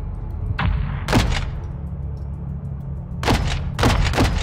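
An artillery fire support barrage in Call of Duty: Modern Warfare II lands as a few heavy booming impacts, two early and a cluster later, each with a rumbling tail over low background noise.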